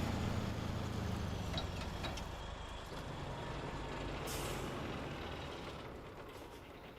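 Air brake hiss from a Kenworth 900 truck in SnowRunner, a steady broadband rush of air with engine rumble underneath, fairly loud and continuous, tailing off slightly near the end.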